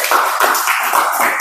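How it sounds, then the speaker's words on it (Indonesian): A classroom of students gives a short burst of clapping for two classmates, a quick dense patter of hands lasting just over a second, close and fairly loud. "Oke, tepuk tangan untuk 2 temannya."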